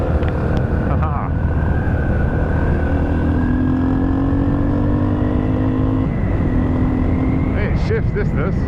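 A Yamaha TT600 motorcycle accelerates steadily with a loud, close engine drone and a gear change partway through, wind noise rushing over everything.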